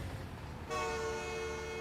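A train horn sounds in American Truck Simulator, entering abruptly with a steady tonal blast that holds at a strong level over low road and engine rumble from the truck.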